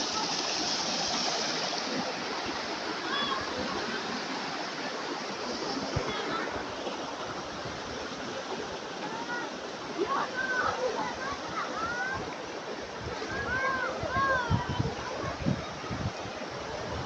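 A river at Calantas, El Nido, runs over rocks in a constant rushing wash that stays steady and close throughout, with light chirping sounds rising over the flow at times.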